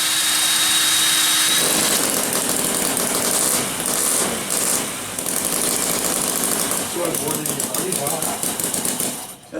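Small model engine running loud and steady with a high buzzing whine, then dropping to a rougher ticking idle near the end, with people talking faintly around it.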